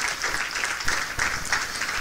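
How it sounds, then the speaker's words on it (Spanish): Applause from a church congregation, a steady wash of many hands clapping together, moderately loud and continuous with slight swells, no speech over it. "Un aplauso al Espíritu Santo."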